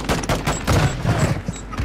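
Pistol shots in a video game crack in a rapid, uneven string of close, punchy bursts, several shots in under two seconds.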